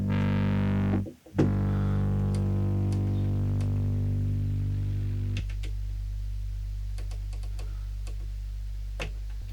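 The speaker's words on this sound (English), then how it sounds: "you could have a volume pedal and you could like play some bass notes and swell in." Low bass guitar notes played through a Line 6 POD HD500x with a volume pedal swell in and ring out as sustained tones that slowly fade. Faint clicks sit over the quiet tail.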